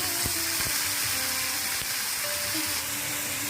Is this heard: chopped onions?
yes